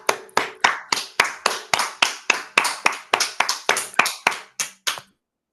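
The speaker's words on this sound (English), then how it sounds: "let's give an applause to all these wonderful poets" A single person claps over an online call for a group of poets at a poetry magazine launch, about fifteen sharp, evenly spaced claps, close and clear, ending after five seconds.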